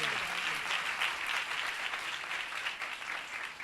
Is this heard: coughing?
no